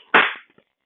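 A single sharp hand clap sounds close and loud, decaying quickly into a brief room echo. It is picked up by a CM-50 controller's sound sensor.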